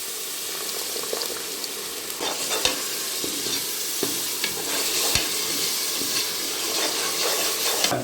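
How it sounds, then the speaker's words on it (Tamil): Steady sizzling and stirring of a large batch of mushroom biryani masala as yogurt is added to the hot pan, a continuous close frying hiss with occasional scrapes and clacks and no talking. "இப்போ தயிர் ஒரு 75 மில்லி ஊற்றுறேன்."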